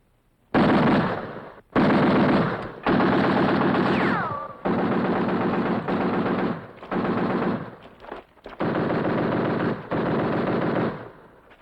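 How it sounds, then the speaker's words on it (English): Gunfire in a World War II desert battle at El Alamein: several loud, close bursts of rapid automatic fire, separated by short pauses, with rounds rattling out in sustained strings. "Fire a few rounds."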